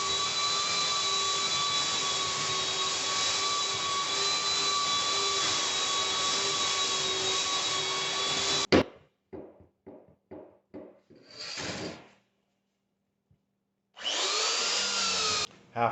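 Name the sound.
belt sander sanding mobile home walls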